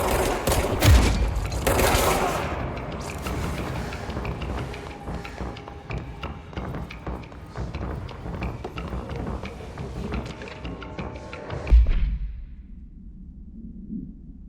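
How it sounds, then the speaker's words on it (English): Grenade launcher blasts in the game Control, delivered as a dense, continuous barrage of thumping explosions and gunfire with two especially heavy low booms, one early and one near the end, before the noise cuts off abruptly. "Grenade launchers."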